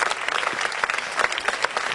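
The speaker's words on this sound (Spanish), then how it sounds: "Mire cómo aplauden igual." An audience at a wedding party applauds in a steady, dense patter, moderately loud and close, with no voices standing out.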